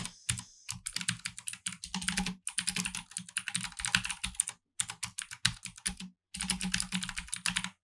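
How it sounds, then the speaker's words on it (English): Fast, continuous typing on a computer keyboard, close and clear, in several long bursts of dense key clatter separated by short pauses. "I'm just going to type them out."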